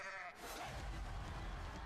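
A goat bleats once, a loud, wavering call up close, during a brief game with the animal in Kyrgyzstan.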